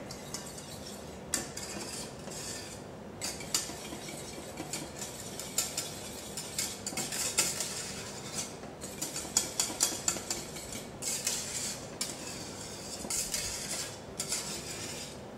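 A utensil works a third of the meringue into soufflé batter in a bowl, giving repeated soft scraping and clinking strokes with short pauses between them, close and fairly quiet, with no talking.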